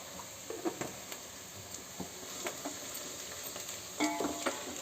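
Turmeric powder fries faintly in hot oil in a pan for mandakki oggarane, with soft sizzling and a few light scrapes and taps of stirring, quiet and close.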